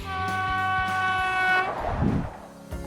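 An express train effect: a loud, sustained multi-tone horn blast over rolling rail rumble, fading into a brief burst of noise before a short final clatter.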